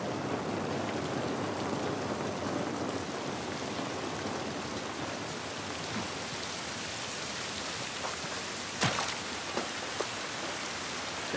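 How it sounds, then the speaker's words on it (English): Steady rain falls in the video game The Last of Us Part 1, a continuous, even hiss of drops on surfaces with a couple of brief sharper taps near the end; no voices. "This rain ain't gonna do us any good."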